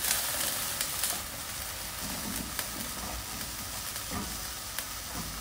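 Kaldereta meat sautéing in a pan gives a steady, loud sizzle and frying hiss with occasional stirring clicks and pops, continuous and close with no talking.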